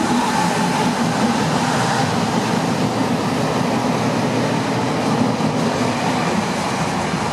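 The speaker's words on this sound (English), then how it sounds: "Oh, it's interurban train!" An interurban train in Rome rumbles steadily past with a dense, continuous roar and faint rhythmic rail clatter, loud and close throughout.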